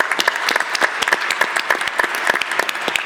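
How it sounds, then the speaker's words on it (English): Dense applause from a conference panel audience, with rapid overlapping claps held steady and fairly close for about three seconds, with no speech. "Can we give him a round of applause?"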